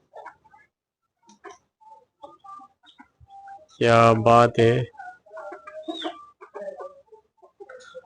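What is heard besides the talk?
hen and rooster clucking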